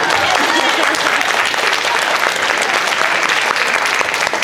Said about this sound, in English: Let's give Liz a round of applause.